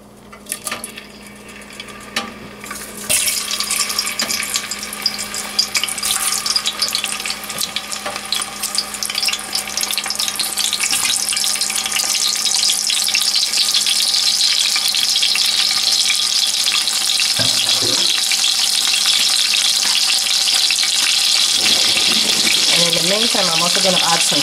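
Onions hit hot oil for a Nigerian stew, bursting into a loud, sustained close sizzle that builds and stays dense, with a few clatters of stirring near the end.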